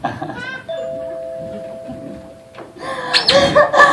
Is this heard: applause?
no